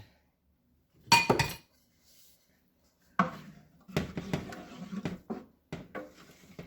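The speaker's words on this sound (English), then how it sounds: "I'm going to stir this up" A spoon stirs a pot of tomato sauce for Sunday gravy, giving a few separate clinks and scraping knocks against the pot, near and quiet with pauses between strokes.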